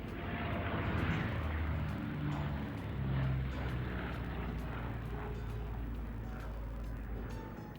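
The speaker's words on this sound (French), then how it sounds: "la lente Flying Fortress, alias forteresse volante" Droning four-engine propeller engines of a B-17 Flying Fortress bomber rumbling low and steady at an airshow at La Ferté-Alais, a faint distant flyover with a throbbing hum.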